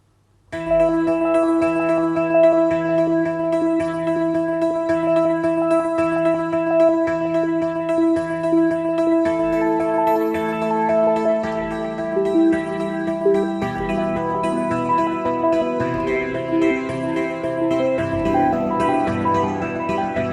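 Motion Keys preset "Preparing for Launch" by Sample Logic plays alone, a bright, layered synth texture with steady pulsing bell-like tones that shifts and thickens into a denser, more animated motion in its second half.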